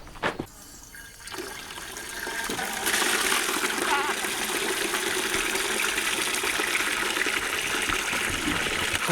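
Water pours from a pipe into a bucket outdoors with a steady gushing splash. It swells louder after a few seconds and keeps rushing continuously.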